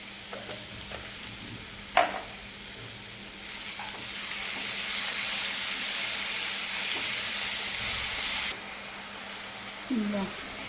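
Ground cumin, coriander and chili frying in oil in a pan, a steady hiss and sizzle with occasional clinks and stirring knocks, close and moderately loud.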